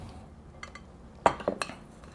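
Utensil clinking against a bowl while Swiss chard stuffing for a vegetarian dish is mixed, a few light taps and scrapes clustered together after a quiet start, close and fairly soft.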